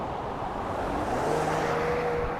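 In Toronto city traffic, a Jeep speeds past with a steady, loud roar of engine and tires, heard from a nearby street amid continuous road noise.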